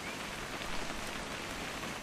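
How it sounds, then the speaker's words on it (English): Steady rainfall in the video game What Remains of Edith Finch, a dense, even hiss of drops on surfaces, constant and close, with no voices. "It's gonna rain the whole weekend"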